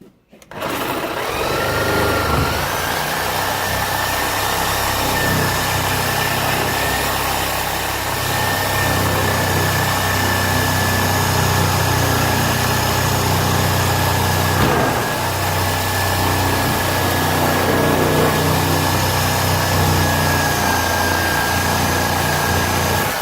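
A power tool cuts a ring out of a big Holset turbo, a loud steady whining drone with a sustained high tone that runs almost unbroken, close by and alone.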